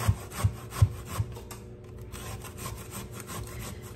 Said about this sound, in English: And I just use my box grater and go around.